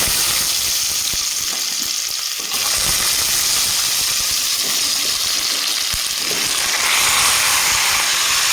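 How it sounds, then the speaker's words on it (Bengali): Mixed vegetables, carrot first, go into hot oil already seasoned with bay leaf and whole five-spice, producing a loud, continuous close-up sizzle with occasional stirring scrapes throughout. "তো দিয়ে দিলাম সব সবজি একসাথে"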